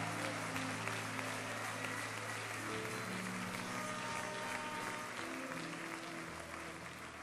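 A church congregation claps steadily together in a large worship hall, the dense applause continuous throughout with background murmuring and voices beneath it.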